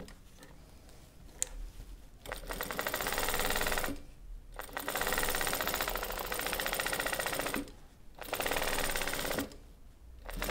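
Close-up, a sewing machine stitches quilting curves on a patchwork block in rapid, rattling bursts of about two seconds, separated by short silent pauses.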